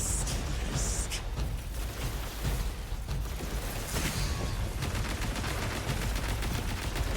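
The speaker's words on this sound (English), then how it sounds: "shooting at me, I think." Sci-fi weapon fire in the shooter game Destiny 2: The Edge of Fate, a steady stream of shots and bursts from enemies crackling under a dense, busy battle mix.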